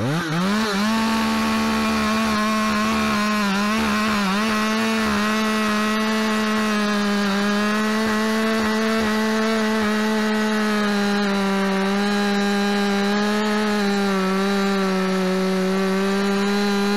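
A Husqvarna 572XP chainsaw with autotune runs steadily close by, its engine holding a high, even whine as it cuts through wood for the full stretch without talk.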